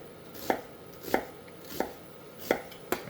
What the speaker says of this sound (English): we're just going to give this just a medium dice